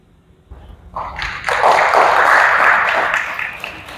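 Audience applause after a talk on self-governance in Germany, starting with a few scattered claps and swelling into a loud, sustained round of clapping before easing off slightly.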